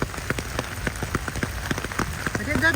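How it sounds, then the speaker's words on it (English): Heavy rain pattering and splashing on surfaces during flash flooding at culverts, close and dense with irregular sharp drop impacts throughout, no voices over it. "This is a good rain we're having right now."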